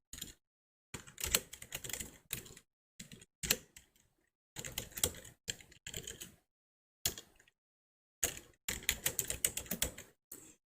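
Someone types an address on a computer keyboard, with close, quiet key clicks arriving in short bursts separated by pauses of silence.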